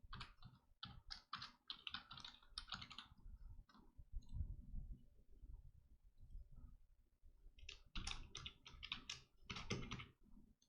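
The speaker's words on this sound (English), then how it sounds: "try to type in your email ID and password and try to sign in" Rapid bursts of clicking keystrokes on a computer keyboard as an email address and password are typed in, coming in quick clustered runs with short pauses between them, close and fairly quiet.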